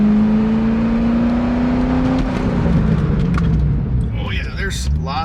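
A C6 Corvette with upgraded brakes accelerating hard then braking during brake bedding: a loud rising engine drone that peaks and falls away as the car slows, ending in a brief tire squeal, all close inside the car.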